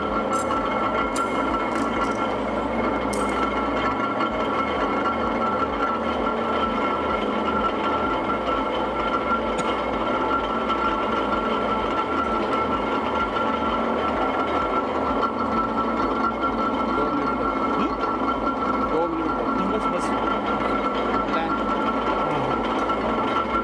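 A laboratory rolling mill squeezing a metal strip between its rolls, producing a continuous mechanical hum and drone with a faint rhythmic clatter, while a voice explains over it.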